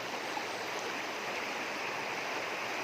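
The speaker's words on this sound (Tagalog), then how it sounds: "Ito yung sapa na to na papunta doon sa bundok namin." Small mountain stream flowing, a dense, steady rushing gurgle heard close and continuous throughout, with no voices.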